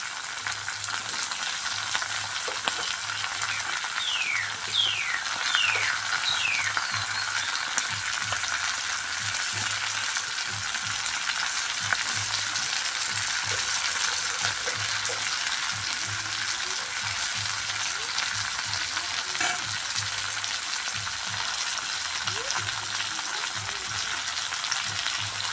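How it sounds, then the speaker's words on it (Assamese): Chicken meat and potatoes fry in a pan with a continuous, loud, close sizzle and hiss, steady throughout with faint scattered clicks and no voices. "মাংসটো অলপ ভাজি লৈছোঁ"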